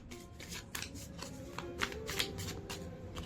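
Tarot cards being shuffled and drawn by hand, soft quick riffles and flicks in irregular bursts, close and quiet, with no talking.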